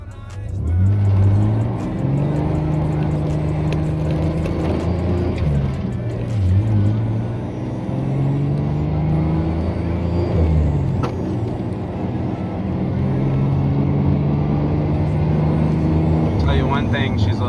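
A truck accelerates hard down a road, its engine climbing loud and close through several rising pulls with brief gear-change dips before revving up again.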